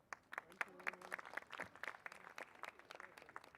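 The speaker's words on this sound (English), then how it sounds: "A round of applause" An audience at the Artivism Gala breaks into applause: scattered, uneven claps ring out close by, mixed with voices talking underneath.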